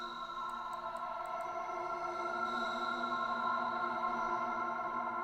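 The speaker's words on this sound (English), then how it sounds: "what if I just douse this in reverb?" A studio session where a sustained tonal sound is drenched in heavy reverb, producing a faint, smeared, droning wash with a few light clicks early on and no talking.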